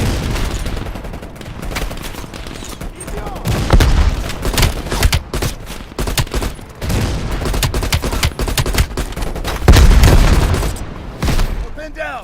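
Call of Duty Black Ops Cold War battle: dense, loud gunfire with bursts and heavy RPG rocket booms, continuous fusillade throughout with shouted voices mixed under the combat.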